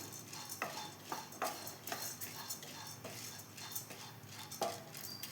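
Dry rice roasts in a pan while being stirred, giving repeated scraping, rattling strokes at a steady pace, fairly soft and close, with a low background hum and no speech.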